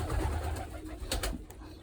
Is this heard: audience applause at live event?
no